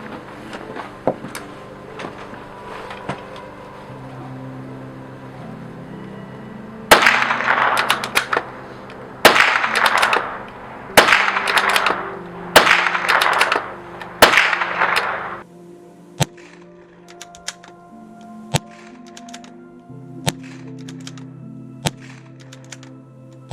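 Savage Mark II .22 rifle fired unsuppressed at night, six sharp cracks spaced a second or two apart, loud and close, with fainter clicks of handling before and after.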